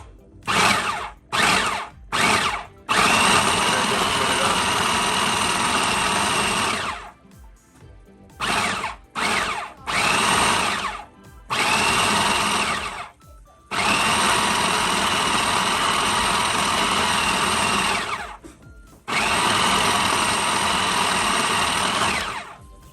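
Food processor pulsing to grind ingredients for an Instant Pot Italian pasta sauce: a loud, near motor whir in repeated bursts, short pulses at first, then longer runs of several seconds, with no talking.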